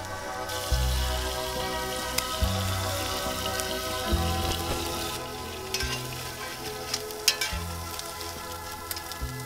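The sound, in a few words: food frying in a pan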